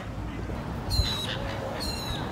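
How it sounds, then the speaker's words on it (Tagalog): Birds squawking near a waterfront restaurant at sunset, two loud harsh calls about a second apart over a low background murmur. "Ayan, ang daming ibon."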